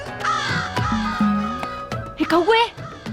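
A crow caws several times at close range in a Hindi TV drama scene, the harsh calls rising and falling, with people talking around it.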